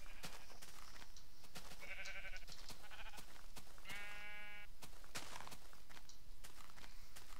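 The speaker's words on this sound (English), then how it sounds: "Sheep everywhere." Sheep in a video game bleat twice, short harmonic calls over a steady run of footstep-like thuds, with more animals implied nearby and no voices.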